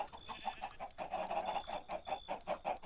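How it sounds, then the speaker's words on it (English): Chickens in the video game Ancient Kingdoms 3 cluck in rapid, repeated bursts, a close and steady flurry of short calls. "our chickens into a new home."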